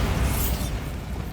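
Bombarda blasting spell in Hogwarts Legacy on PS5, a short burst that fades over about a second into low rumbling game ambience, with no voices.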